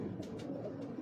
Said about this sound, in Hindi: ये जो है हमारे बर्ड्स जो हाई फ्लायर कबूतर हैं